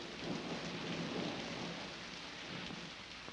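Steady rain falling in a city, a soft, even wash of drops with a low rumble underneath, faint and continuous throughout.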